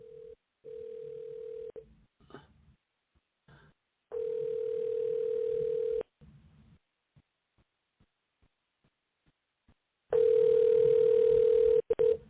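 Telephone dial tone while placing a call: a steady electronic tone sounds in three separate long stretches, with short gaps of quiet and faint clicks between them, close and clear with no talking over it.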